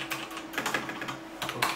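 A computer keyboard on a budget PC is typed on in quick, uneven bursts of clicking keystrokes, close and fairly quiet, with no talk.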